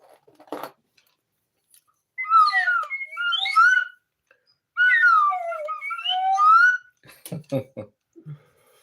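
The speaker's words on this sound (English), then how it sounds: "I don't want to blow the whistle too loud" A toy whistle sounds in two long, warbling bursts with sliding pitch, separated by a short pause, followed by a few clicks and handling noises.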